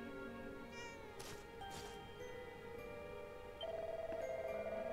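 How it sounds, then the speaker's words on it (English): A cat meowing in Dragon Quest 11, a couple of soft, fairly quiet mews over a steady layer of game music, the last call drawn out as the background swells slightly louder. "Not all of the cats have fled. We still have one good kitty."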